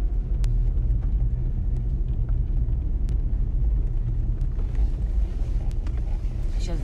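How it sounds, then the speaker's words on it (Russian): A car engine rumbles low and steady as the vehicle is driven and turned toward the sun to park, with a continuous drone and occasional faint clicks throughout. "Сейчас на солнышко поверну машину."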